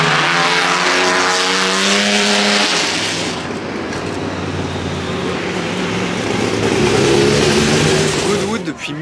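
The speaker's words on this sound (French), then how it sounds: "il y a aussi des voitures anciennes de fous qui roulent" Vintage racing cars roar past at the Goodwood Festival of Speed hillclimb, engines revving loudly and close with a harmonic whine that shifts as they pass, while a voice talks over the din.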